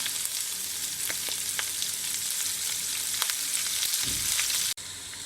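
Malabar spinach tipped into a hot pan with chilli and ginger sizzles and fries steadily, with a few stirring clicks and a low thump near the end before the sizzle drops quieter.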